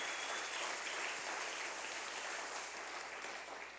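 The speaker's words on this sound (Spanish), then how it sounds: "somebody have a loud applause to God?" Church congregation applauding during a bilingual Sunday service, a steady, dense wash of clapping that holds for a few seconds at moderate level without voices.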